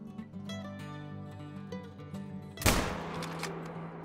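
A single loud hunting rifle shot fires in theHunter: Call of the Wild, a sharp close crack with a brief decaying tail that cuts through a quiet, steady game ambience.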